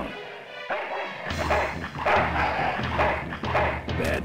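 A growling dog from the adventure video game Full Throttle barks and yips in quick, loud bursts over a low game-music bed, close and continuous after a short quiet start.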